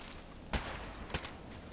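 Two sharp bursts of gunfire ring out in a multiplayer shooter game, faint and distant-sounding, about half a second apart with a quieter crackle trailing the second.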